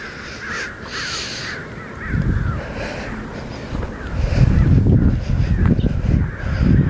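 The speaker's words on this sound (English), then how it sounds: "The crows are going insane over there." Crows caw loudly and repeatedly around an old grain mill, a rowdy overlapping chorus of harsh calls, some close and some farther off, with no talk.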